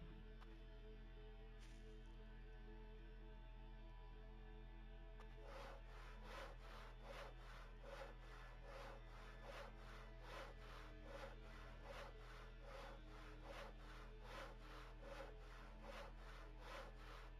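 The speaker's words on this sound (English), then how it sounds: "now that I have a hacksaw, I just want to see how many other things I can hacksaw" Hacksaw cutting in the Voices of the Void video game, rapid regular back-and-forth rasping strokes starting a few seconds in and continuing steadily, faint and close, over a constant low hum.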